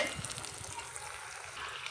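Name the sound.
frying food in a pan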